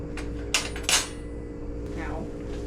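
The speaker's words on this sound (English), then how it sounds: "now grab a fork and mix it all up" A fork clinks and scrapes against a bowl while mixing dry ingredients for fried cheese curds, a few sharp taps and a softer scrape over quiet room hum.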